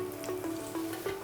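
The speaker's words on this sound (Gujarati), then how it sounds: "ફૂલ ફ્લેમ પર જ આપણે એને તળીએ છીએ" Pieces of suran (elephant foot yam) fry in hot oil on a full flame, giving a steady close sizzle. Small bursts of crackling rise and fall through the short stretch.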